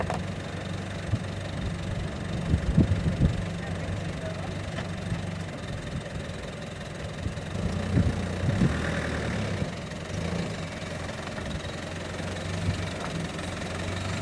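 A 4WD engine idling and rumbling as the vehicle backs down the Big Red sand dune in the Simpson Desert, a steady mid-low drone with occasional knocks and bumps, close, under faint wind.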